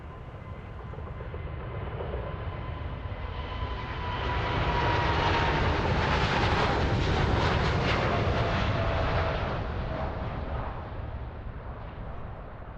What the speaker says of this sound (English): This was the aircraft that was passing by earlier